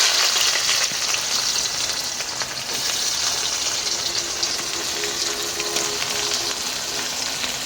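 Sliced onion hits hot oil in a pan for a bitter gourd fry, giving a loud, continuous crackling sizzle that holds steady throughout, with faint stirring scrapes and no talk.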